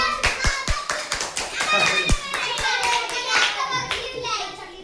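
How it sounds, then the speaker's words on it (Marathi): A group of schoolchildren claps in a loud burst of quick, uneven hand claps that settles into a ragged rhythm, with children's voices mixed in. "एकदा टाळ्या वाजवा तुमच्याकडे"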